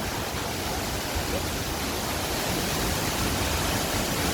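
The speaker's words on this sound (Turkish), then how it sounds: "bak maşallah nasıl akıyor şelale" Kapuzbaşı waterfall in Kayseri, a tall cascade, roars as a steady, dense broadband rush of falling water, loud and unbroken throughout with no voices.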